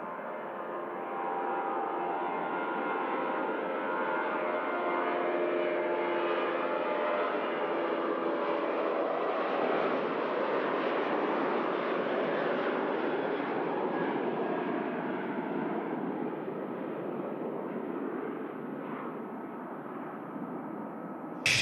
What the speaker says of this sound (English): we'll just capture this Jet 273 on the departure roll